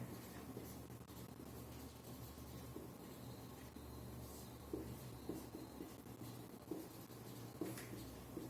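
A pen scratches and scrapes across a board or paper while notes on solid angle and steradians are written out, a close, continuous rubbing texture with occasional small taps as strokes begin, no voices over it.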